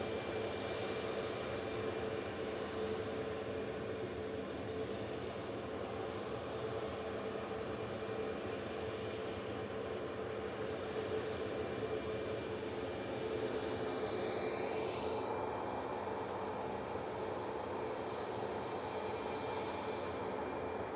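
A TUI Airways Boeing 737 MAX 8 departs Manchester Airport, a faint, distant jet rumble and whine that holds steady and then shifts pitch as it passes.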